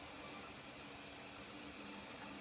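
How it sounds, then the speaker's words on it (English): An Alfawise U3 3D printer runs with a steady, quiet, broadband whir and hum, continuous and even throughout with no voices. "And you hear this printer running, it's really not loud at all"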